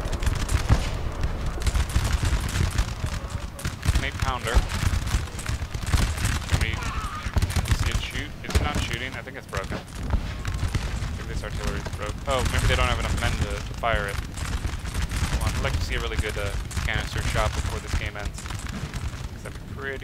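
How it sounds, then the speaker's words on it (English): Artillery firing canister shot in the Napoleon Total War video game, a dense rattling fusillade of overlapping cracks and booms that runs almost continuously, with a voice talking throughout. "nice to see these artillery opening up with canister"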